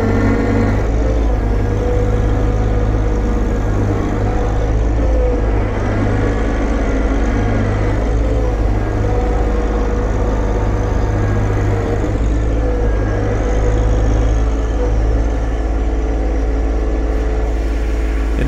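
A stuck John Deere 1025R compact tractor in four-wheel drive without the differential lock, its engine droning loud and steady up close with a low rumble throughout.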